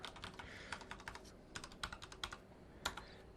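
A password is tapped out on a computer keyboard, a quick, uneven run of soft close key clicks with small pauses between bursts, faint and without speech.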